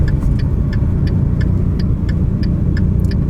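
A Dodge Viper ACR Extreme driving on a road: a loud, steady low engine rumble and road roar heard from inside the car, with faint periodic ticking above it.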